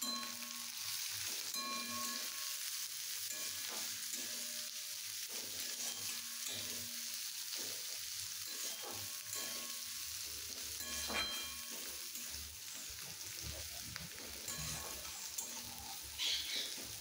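Chopped onions frying in a pan for egg pasta, a steady soft sizzle with occasional stirring scrapes running throughout, quiet and continuous with no voices.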